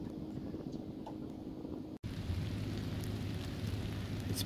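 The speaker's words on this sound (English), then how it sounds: "It's pouring down rain," Heavy rain pours steadily during a windy storm at a striped bass and catfish fishing spot, a dense continuous hiss with low wind rumble, broken by a brief dropout before resuming louder.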